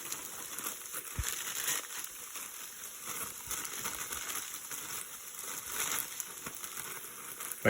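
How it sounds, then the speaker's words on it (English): Onions, garlic and celery sauté in melted butter, giving a steady, soft sizzle with faint crackles and occasional light clatter from the pan, heard alone at close range for several seconds. "And now I'm going to add the vegetables that we had before, that we cut up before."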